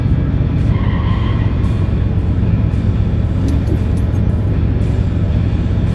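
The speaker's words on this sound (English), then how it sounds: "This is a burnout." A car doing a burnout on a drag strip, loud continuous engine roar and tire spin filling the whole stretch, close and sustained without a break.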